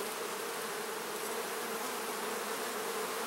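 Honey bees swarm and buzz around an open hive during a frame inspection, a dense, steady drone that stays close and constant throughout, with no voices.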